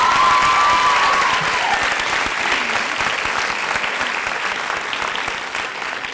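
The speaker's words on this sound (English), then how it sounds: "Even sometimes we clap out of order, not just at the end." Loud, dense audience applause at a University Park Campus School graduation ceremony, a continuous wash of many hands clapping that holds steady for about six seconds, with a brief voice at the start.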